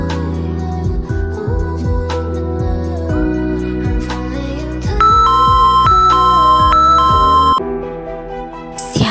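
A Sakura School Simulator doorbell rings several times in a row, a loud synthetic ding-dong chime with sustained bright tones, close and clear and heard alone without voices.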